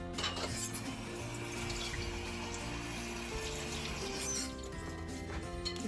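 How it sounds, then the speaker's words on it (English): Water runs into a bowl of chicken marinade made with yogurt and red flour, a continuous quiet splashing stream from a tap, close and steady for several seconds, with no talking. "we just put some water in here"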